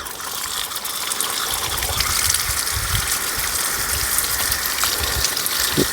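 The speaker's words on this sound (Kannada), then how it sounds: "ಈ ಮಣ್ಣನ್ನೆಲ್ಲ ತೆಗೆಯುವ. ನೋಡಿ ಸ್ವಲ್ಪ ನೀರು ಹಾಕುವ ಇದಕ್ಕೆ" Water poured over an elephant foot yam to wash off soil, a loud continuous gush and splash close by, steady throughout with no talk.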